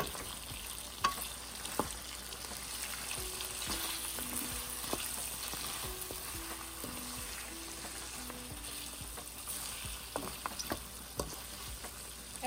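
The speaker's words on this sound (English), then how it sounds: "Give it a good stir." Dry ingredients being stirred into sautéed potatoes and peas in a frying pan, with steady close sizzling and frying under repeated scraping and clinking of a spoon against the pan.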